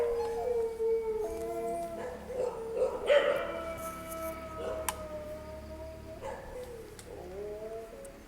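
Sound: dog howling at night

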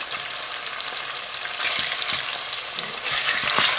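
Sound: pork frying and stirred with black bean paste

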